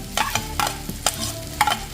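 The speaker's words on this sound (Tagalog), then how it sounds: "Igisahan natin." Onion and garlic sauté in margarine butter with a soft sizzle, broken by several sharp, close scraping strokes of a spatula stirring the pan.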